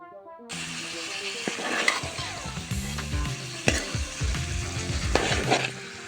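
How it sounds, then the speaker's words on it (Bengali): Chickpeas frying and being stirred in a pan for Ramadan, a close, loud sizzle broken by repeated scraping and clattering of the spoon. "আমি ছোলাও ভেজে নিচ্ছিলাম।"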